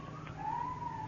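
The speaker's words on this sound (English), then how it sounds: "Police siren." Police car siren in an old-time radio drama, a single wailing tone rising and holding steady, moderately loud over a faint background hum, with no talking.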